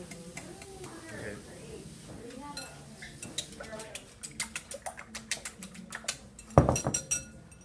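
Eggs being whisked for an omelet in a bowl: a rapid run of light clinks and taps that grows busier toward the end, following a stretch of talk.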